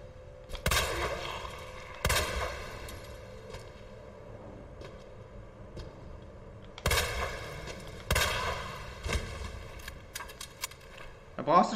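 Gunfire in the survival-horror game Resident Evil 2, heard in the sewers, with several loud, sharp shot bursts spaced a few seconds apart over a low game ambience. Someone talks throughout.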